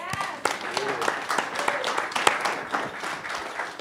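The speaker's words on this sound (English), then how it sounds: "can we clap for that?" Audience members at an artist talk clap together in a brief burst of applause, moderately loud and close, with scattered voices and cheers mixed in over roughly four seconds.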